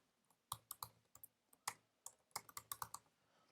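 Quiet, irregular keystrokes clatter on a computer keyboard in short bursts, with crisp clicks close by and no talking.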